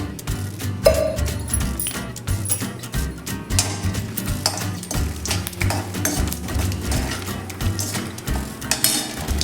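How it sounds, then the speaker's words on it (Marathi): Peanuts fry in oil in a pan while being stirred for poha. A steady sizzle sits under frequent metallic clinks and scrapes of a spoon against the pan, with no talking. "आता यामध्ये सर्वात अगोदर आपल्याला हे शेंगादाणे घालून घ्यायचे आहेत शेंगादाणे आपण छान असे तळून घेऊया"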